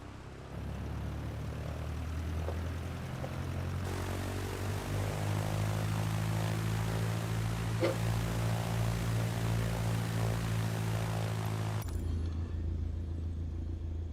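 Cessna propeller plane on a runway during its takeoff roll, a steady loud engine drone and rumble that swells slightly and holds throughout, with no talk over it.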